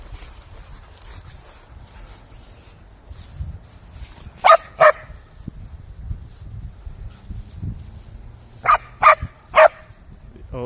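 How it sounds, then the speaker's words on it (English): A dog barks outdoors on a woodland walk in Abbots Wood, Barrow: two sharp barks, a pause, then three more in quick succession, fairly close over quiet wind and footstep noise. "there's going to be a bit of barking going on here"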